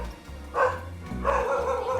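A dog gives a couple of short, deep barks close by, separated by a brief pause, at an animal shelter or pet shop in Malaysia.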